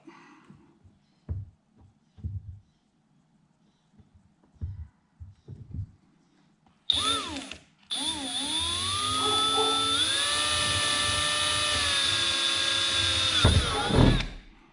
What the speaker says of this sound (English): while using a 3/16 drill bit, I'm going to drill the holes out